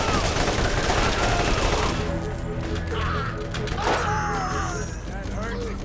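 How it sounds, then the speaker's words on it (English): Gunfire in the Borderlands video game, a dense burst of rapid shots filling the first two seconds, then game sounds and voices continuing underneath. "half of that magazine is just shot into the dirt"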